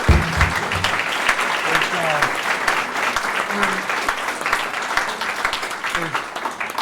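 Sustained applause from an audience at a Maine legislative advocacy gathering, dense and even throughout, with a few voices and shuffles mixed into the clapping.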